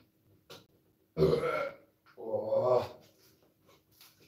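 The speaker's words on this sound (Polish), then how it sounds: "No, beknąłem." Two loud, throaty burps from a man sitting close to the microphone, the first short and rough, the second longer and deeper, separated by a brief pause.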